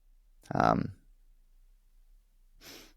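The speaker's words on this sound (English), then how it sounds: "To kind of clear out the sinuses and just get some good blood flow and oxygen going" Two forceful breaths from a sinus-clearing breathing exercise: a short, loud near exhale followed by quiet, then a softer second breath.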